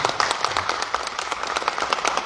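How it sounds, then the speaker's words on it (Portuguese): An audience at a samba federation assembly applauds its event partners, with dense, steady clapping filling the room at moderate loudness throughout. "uma salva de palmas para todos esses parceiros"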